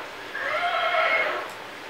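A single high, whinnying neigh from a toy horse rises and falls for about a second, clear and close, with no talking.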